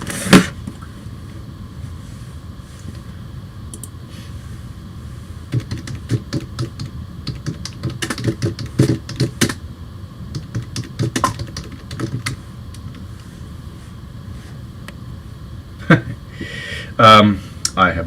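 Rapid keyboard typing clatters in bursts while building a Lego Lamborghini Countach model, close and moderately loud, with a few sharper clicks and knocks and some background noise.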